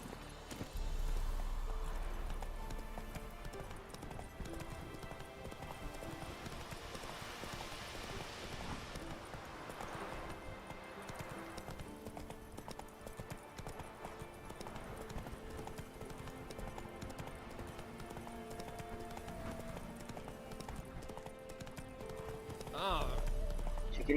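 The horse Roach galloping in Witcher 3, with rapid rhythmic hoofbeats over game music and ambience, and a brief louder burst near the end.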